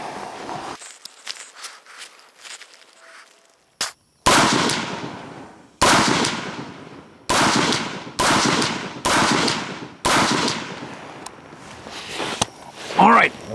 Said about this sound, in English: we're just going to fire several rounds